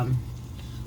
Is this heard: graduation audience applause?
no